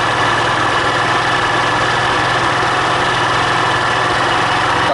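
A fuel-injected Honda Titan 150 motorcycle engine runs just above idle, giving a steady, close, continuous hum with an even low throb and no voices.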